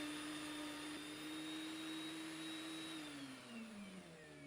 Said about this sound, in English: I ran another test on the FindBuyTool, this time with a piece of rough sawn honey locust